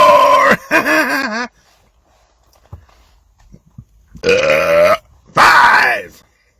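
Loud, drawn-out belches after drinking a bottle of Pepsi Zero, two close bursts early and two more near the end, separated by a quiet gap with faint small noises.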